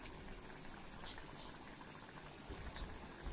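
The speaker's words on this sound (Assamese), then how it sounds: "গৰম পানী এড কৰিছিলোঁ যে একদম মানে পুটপুটকৈ উতলি আহিছে" A pot of drumstick curry simmering after hot water is added, with a soft steady bubbling and gurgling that stays faint and continuous, with no voices.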